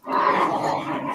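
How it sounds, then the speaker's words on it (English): A playing dog growls in one sustained, rough, close rumble lasting about a second, loud and alone without speech. "what is that dog doing?"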